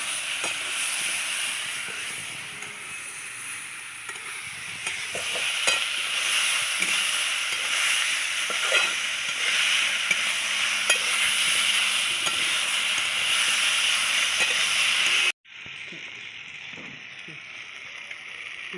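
Tomato added to a hot pan fries with a steady, loud sizzle and hiss, with stirring scrapes throughout; it cuts off abruptly near the end, then a quieter sizzle resumes briefly.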